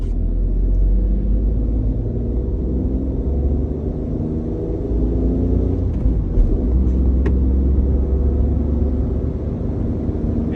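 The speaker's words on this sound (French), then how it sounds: "on a une petite ligne droite donc on va en profiter pour tester l'accélération." A Renault Twingo 3 accelerating along a short straight, heard from inside as a steady low engine drone and road rumble that swells slightly, with no talk.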